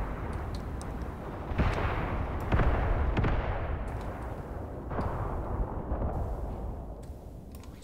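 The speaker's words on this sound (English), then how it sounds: "There goes the mortar strike." Mortar strike in the Graviteam Tactics war game, heavy booming explosions and crackling impacts landing in irregular succession over a low rumbling battlefield background, loud and without speech.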